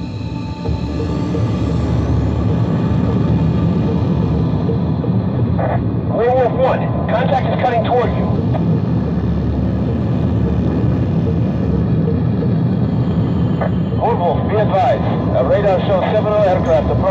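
Jet fighter engine spooling up for takeoff in Ace Combat, an F-16 flight: a steady, loud roar fills the whole stretch while radio voices come and go over it.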